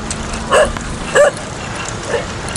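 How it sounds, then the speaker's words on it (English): Several dogs in a village bark in short bursts, two louder barks close together and a fainter one later, over steady outdoor background noise. "that's a village of dogs"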